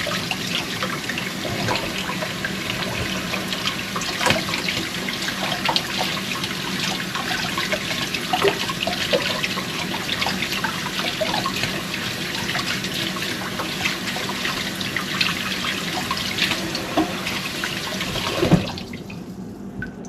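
Tap water runs steadily into a sink while pork is washed, a continuous close splashing rush with small trickles and clatters, cutting off near the end.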